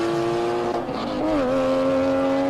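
An original 23-year-old GT3 race car at the Simola hill climb, its engine note loud and close, a steady high harmonic drone that bends downward as it shifts, then holds a sustained rasping tone.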